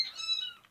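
Newborn kittens give one short, high-pitched meow, thin and fairly quiet, with no other sounds around it.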